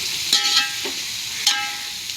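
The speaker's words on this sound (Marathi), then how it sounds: "कांदा आपण परतून घेऊ" A kilo of sliced onions sautéed in a pan for mutton biryani gives a steady, even sizzle with a few sharp scrapes of stirring, close and fairly loud.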